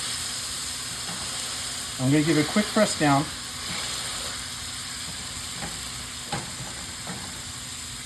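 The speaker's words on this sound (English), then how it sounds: "You want to hear that sizzle." Steady, close sizzling of king oyster mushrooms charring in a frying pan, with a person speaking briefly over the hiss.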